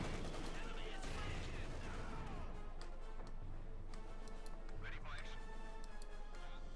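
Machine gun fire in Company of Heroes 2 chatters through a dense wartime battle, with steady gunfire and scattered cracks over a constant bed of combat noise and a voice talking over the top.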